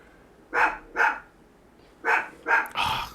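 Several dogs bark in an indoor room, five sharp, loud barks arriving in two pairs and then a tight cluster of three, with near-silence between them and no talk.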